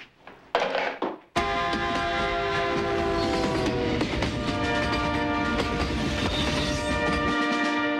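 A train thunders past close by, its horn blaring in a long sustained chord over heavy rumbling and rail clatter, following a couple of sharp bursts at the start.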